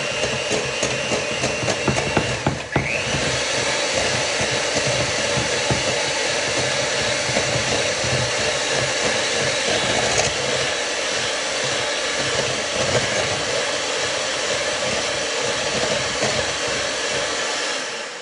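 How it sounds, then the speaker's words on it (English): An electric mixer whirs steadily while beating cream cheese for cinnamon bombs, a loud, unbroken motor drone lasting well over fifteen seconds, with a brief shift in pitch near the start and no talking. "All right, I'm gonna mix that up."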